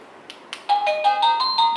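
Ringtone from a RETEKESS TH001-TH003 healthcare calling system: two soft clicks, then a bright, repeating electronic chime melody of clear, steady tones, loud and close with no talking.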